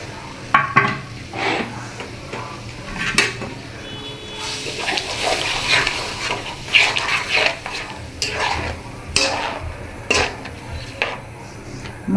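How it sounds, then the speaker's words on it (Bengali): Ginger-garlic paste and spices fry in a pan for chicken curry, with steady sizzling broken by repeated scraping and clinking of a spoon stirring against the metal, close and fairly loud throughout. "মশলাটা কষা পর্যন্ত আমরা অপেক্ষা করি।"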